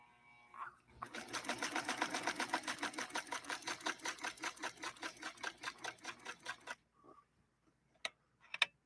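A Necchi Lelia 512 sewing machine zigzag stitching velvet, a rapid, evenly pulsing mechanical chatter running for about six seconds, close and fairly quiet, then stopping, followed by a few sharp clicks.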